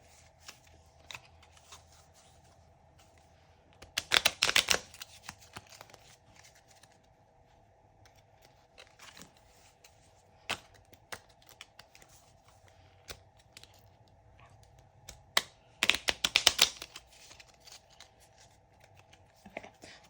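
Playing cards are shuffled up close in two brisk riffling bursts, separated by quieter handling and tapping of the deck.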